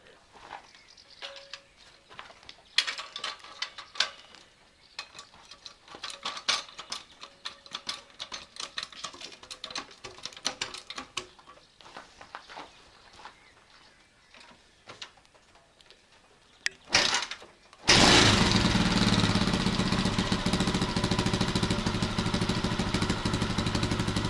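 A homemade tricycle engine: about eighteen seconds of irregular clicking and clattering from cranking or handling, then the engine catches and runs in a loud, steady, continuous roar to the end, close by.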